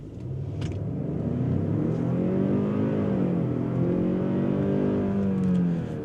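A 2026 Genesis GV70 with 300 horsepower accelerates hard on an empty straight road, its engine note rising steadily through the gears in a smooth, sustained pull heard from inside the cabin.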